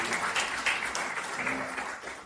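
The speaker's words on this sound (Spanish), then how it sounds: "Clap your hands together for Jesus." Church congregation clapping hands together, a loud, dense and sustained round of applause that carries on steadily before tapering slightly toward the end.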